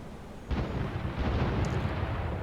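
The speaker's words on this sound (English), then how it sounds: "Here's the bombs." Bombs striking a large unarmored factory in the combat flight game Nuclear Option, a deep boom at the start that swells into a sustained rumbling roar of blasts, heavy and low without any talk.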